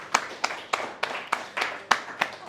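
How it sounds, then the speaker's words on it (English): Scattered clapping for boxer Danny Humphreys at a Tank Promotions boxing event, about nine sharp, evenly spaced claps at moderate loudness, sounding like a small group or a few hands rather than a full crowd. "So I want a round of applause for Danny Humphreys and what he does for Williams syndrome."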